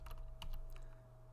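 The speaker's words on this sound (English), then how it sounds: "I can type in the chat box" Quick, close clicking of keys on a computer keyboard while typing into a chat box, a short burst of light taps over a steady low electrical hum.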